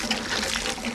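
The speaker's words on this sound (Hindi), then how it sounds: "मीठा स्वच्छ पानी हेडपंप का।" Water gushes steadily from a hand pump in Leh, Ladakh, a close, continuous splashing rush over the whole moment with no talk.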